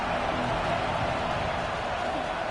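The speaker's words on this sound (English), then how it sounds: "This crowd bringing the energy and noise early." Stadium crowd noise in a college football video game with Arizona State playing Minnesota, a steady, dense wash of cheering and roar that holds without breaks throughout.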